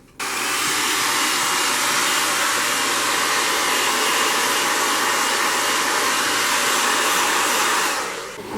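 A heat gun blows a loud, steady rushing roar for about eight seconds, close by, warming faux crocodile fabric being molded onto a barstool, then cuts off.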